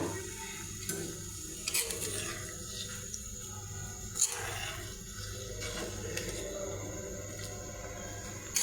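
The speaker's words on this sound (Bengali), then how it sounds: "গরম পানিটা দিয়ে দেব।" Hot water is poured into a cooking pot of chicken with lentils, a steady rushing splash mixed with faint sizzling and a few soft knocks, close and fairly quiet.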